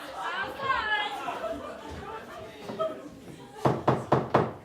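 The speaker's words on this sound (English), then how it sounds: "it's that doorbell I had installed to sound like knocks." Voices chatter and laugh, then four loud, evenly spaced knocks ring out like rapping on a door.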